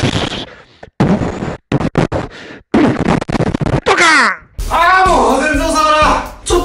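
A voice imitates fireworks, with choppy bursts, then a rising whistle and a loud crackling blast, all mouth-made.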